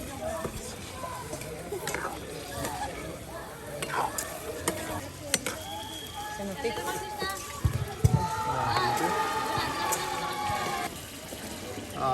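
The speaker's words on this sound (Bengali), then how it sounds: "এই যে দেখুন কত সুন্দর করে কষানো হচ্ছে" Chicken meat sautéed with spices in a pot at an outdoor village cookout, loud sizzling with scraping stirs and clinks, close and continuous under intermittent speech.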